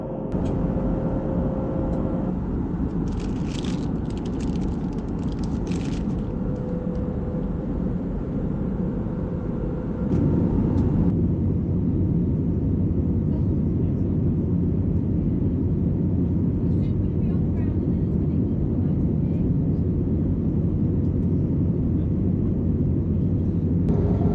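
Steady, loud broadband roar of an airliner cabin in flight toward Barcelona, continuous engine and airflow rumble that shifts slightly in level partway through, with faint intermittent higher sounds over the drone.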